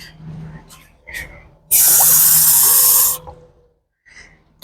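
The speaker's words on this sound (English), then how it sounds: "Just a minute, I'm getting some water." Water gushes loudly from a kitchen tap into a measuring cup in one sustained burst of about a second and a half, framed by quieter speech and handling sounds before and after.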